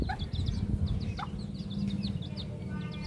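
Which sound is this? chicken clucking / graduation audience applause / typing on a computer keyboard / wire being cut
chicken clucking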